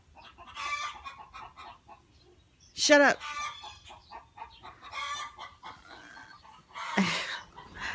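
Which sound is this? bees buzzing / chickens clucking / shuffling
chickens clucking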